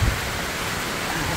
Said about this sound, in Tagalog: grabe ng lakas ng ulan po